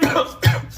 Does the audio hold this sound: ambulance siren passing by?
no